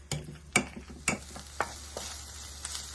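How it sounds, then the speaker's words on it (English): Breadfruit being mixed with almond milk and butter, with a series of soft, evenly spaced knocks and scrapes of a utensil in a bowl, close and fairly quiet. "So we're going to mix everything together"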